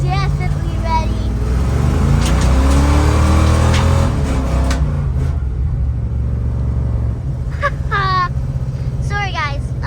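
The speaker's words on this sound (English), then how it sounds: "First video of drifting in the Ronchy." A 1980 Le Mans project car on new winter tires drifts with a loud, continuous engine rumble and tire roar, while people talk over it near the start and chirping sounds come near the end.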